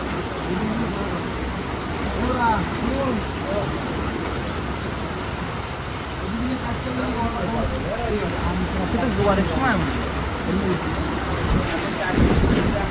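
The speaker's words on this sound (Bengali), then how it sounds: "সমুদ্র প্রচণ্ড উত্তাল" Rough sea waves at Kuakata beach crash and churn continuously under gusting wind and rain, with people talking over the steady roar.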